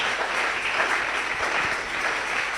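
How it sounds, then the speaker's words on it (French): Church congregation applauding, a dense sustained clatter of many hands clapping together, fairly loud and continuous from start to end with no speech over it. "Acclamez-toi pour le Seigneur Jésus."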